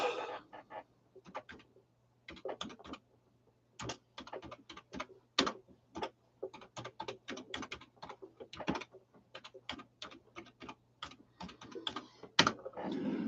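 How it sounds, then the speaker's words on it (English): Close, crisp computer keyboard clicks as someone types an email address into a livestream chat, in irregular quick runs with short pauses and no talking. "Let me write my email on the chat."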